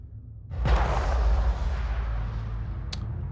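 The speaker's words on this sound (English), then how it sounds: "I don't know if the gunshot was always that audible." A gunshot in the video game Mass Effect Legendary Edition lands as a sharp crack with a booming, rumbling tail, followed by a smaller pop near the end, moderately quiet.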